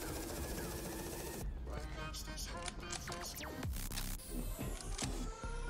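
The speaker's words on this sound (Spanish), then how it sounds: "Hay más gente porque escucho tiros." Dense video game gunfire crackles and pops in rapid bursts over a busy background of layered game sound effects.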